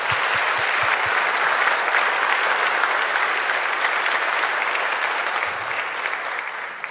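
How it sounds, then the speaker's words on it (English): Conference audience applauding the event organizer at a Berlin tech gathering, a dense, steady wash of many hands clapping close and loud for several seconds, easing slightly toward the end. "So please give a big applause at first for Sarah"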